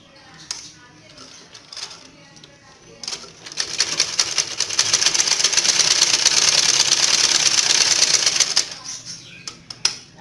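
A sewing machine stitches the legs of a pair of shorts in a tailoring lesson, a fast steady mechanical whir running for several seconds between short bursts, with a voice explaining before and after.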